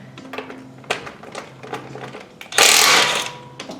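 A socket wrench turns capped lug nuts on a Ford Focus ST, giving close, rapid ratchet clicks in short bursts, then a louder rasping spin near the end.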